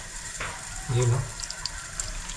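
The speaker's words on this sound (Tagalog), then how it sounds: "Dito na natin siya nilagyan ng tubig sa loob." Water pours briefly into a container to soak it, a short splashing gush rising then settling, close by, with faint background noise.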